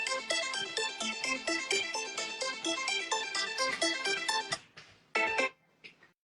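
A phone rings with a loud, bright melodic ringtone that repeats in a quick rhythmic pattern, then breaks off into a few fading bursts before stopping.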